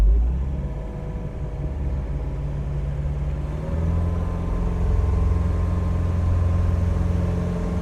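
A 2013 Tahoe Q4 boat's Mercruiser 3.0 engine drones steadily on open water, its pitch stepping up partway through as the throttle opens, a continuous close rumble with no voices.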